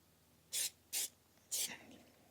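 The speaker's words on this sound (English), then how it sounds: "Kind of weird putting cooking spray on your hat" Three short bursts of cooking spray hiss close by onto a hat, the first two quick and evenly spaced, the third slightly longer after a pause.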